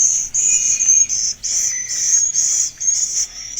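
Swiftlet calls recorded inside a swiftlet building, edited so the clicking noise is reduced but not removed: a continuous run of high, shrill chirping pulses with short dips between them, close and fairly loud, with no voices.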